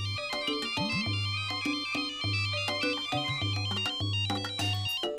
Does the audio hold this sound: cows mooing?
no